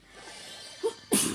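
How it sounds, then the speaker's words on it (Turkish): A single close, sharp sneeze with a short intake of breath just before it. "Allah hapçuruk tuttu"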